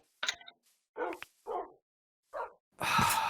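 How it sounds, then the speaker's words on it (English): Wolves barking in Minecraft, several short yapping barks in quick bursts, close and clear, ending in a loud rush of noise. "No, wolves, dogs, no!"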